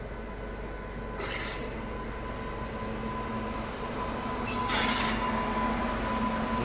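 Indian passenger express pulling out of Bhopal station behind a WG9 locomotive: a steady rolling rumble with a faint sustained whine, and two short bursts of hissing or squeal rising over it.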